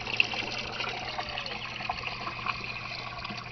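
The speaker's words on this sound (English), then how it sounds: "that's the little giant pump is pumping most of the water" Water returned by a Little Giant pump into a DIY aquaponics tank, a steady trickle and splash with a constant low pump hum underneath.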